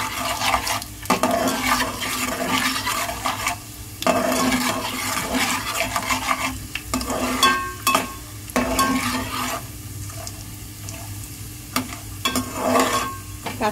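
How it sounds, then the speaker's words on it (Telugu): Peanuts sizzling and crackling in hot oil with mustard seeds in a home kitchen, a steady close fry broken by periodic scraping and stirring of the pan, with no talk. "ఆవాల తర్వాత పల్లి పప్పులు వేసుకోవాలండి, వేరుశనగ గుళ్ళు వేసుకోవాలి. కాస్త వేయించుకోవాలి."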